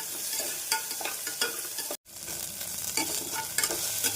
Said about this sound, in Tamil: இஞ்சி பூண்டு விழுது சேர்த்து நன்றாக வதக்க வேண்டும்